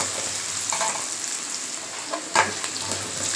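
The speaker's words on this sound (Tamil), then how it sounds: "வெங்காயமும் பூண்டும் நல்லா வதங்கணுங்க" Onion and garlic sizzle in hot oil in a pan, a steady close frying hiss broken by occasional stirring scrapes and one sharper clatter.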